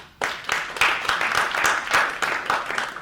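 Audience applause after a call to thank the sponsors at a tech meetup talk on lean and agile. Dense, steady clapping starts abruptly and continues evenly at close range without any talking over it.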